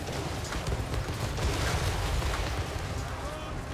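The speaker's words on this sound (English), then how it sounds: "Even their corpses are being tossed around by the blasting charges and torpedoes." Blasting charges and torpedoes exploding in a Total War: Warhammer 3 battle, a continuous dense rumble of detonations and battle noise, loud and sustained, with a voice talking over it.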